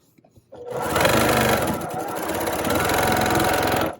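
Sewing machine running steadily up close while stitching a quarter-inch quilt seam, a brief mechanical clunk at the start before a continuous buzzing whir.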